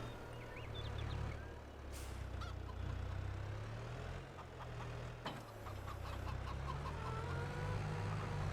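Chickens cluck and squawk on a farm in Farming Simulator 22, a faint, steady scatter of fowl calls over a low background hum with no talking.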